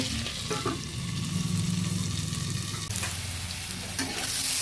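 Potatoes and green peas frying in a pan produce a steady, close sizzle with occasional stirring scrapes and a brief clink, continuous throughout without talk.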